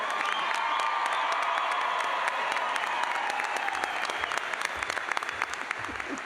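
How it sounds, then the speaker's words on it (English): A 2024 veterinary medicine commencement audience at Iowa State University claps for the graduating class, with dense, sustained applause filling the hall and a few faint cheers mixed in. "Give yourselves a round of applause."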